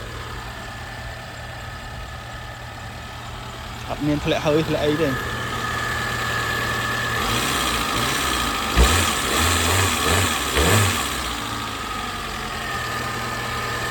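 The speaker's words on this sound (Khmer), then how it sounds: "ម៉ាស៊ីនឆេះស្ងាត់ល្អ" The 2005 SLX car's engine idles steadily with a low, even hum throughout, while someone talks over it in short bursts.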